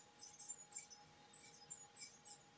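Faint, high squeaks from a gerbil running on its exercise wheel come in a rapid, uneven series behind a steady electrical hum and a quiet kitchen, with no talking.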